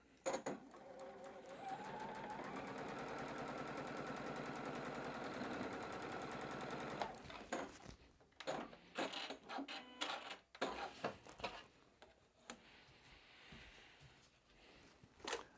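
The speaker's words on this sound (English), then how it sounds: "Sew this back together." Sewing machine stitching a quilting fabric center seam, a steady, continuous motor whir running for about seven seconds, then stopping and giving way to scattered handling clicks and rustles.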